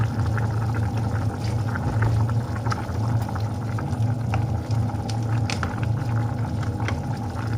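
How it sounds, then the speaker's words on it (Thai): Fish sauce poured into a pot of simmering pumpkin and pork curry, a steady bubbling boil with soft liquid trickles and splashes throughout, close and continuous. "ใส่น้ำปลานิดหน่อยจ้ะ"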